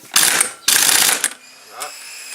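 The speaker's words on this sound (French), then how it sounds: "Après moi je vais essayer avec la boulonneuse, hein, je vais mettre sur 2." Impact wrench set to level 2 tightening a nut while setting a nitro engine block, two short harsh rattling bursts close by, followed by quieter mechanical noise.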